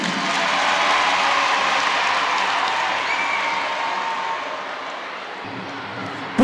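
An audience at a Bamako spelling contest preselection applauds in a sustained, dense wash of clapping with light crowd noise, fading slightly toward the end before a sudden bump.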